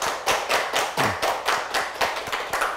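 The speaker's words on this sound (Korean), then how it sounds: "박수로 한번 맞아보겠습니다." Rhythmic unison clapping from a small audience welcoming a guest speaker from a Busan disability rights organization, steady regular beats, fairly close and loud with no talk.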